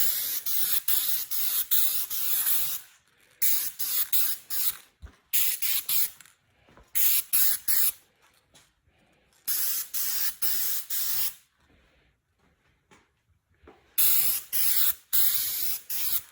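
Spray cans of metal flake paint hiss onto a car in repeated bursts of a few seconds each, separated by short pauses, close and fairly loud with no talking.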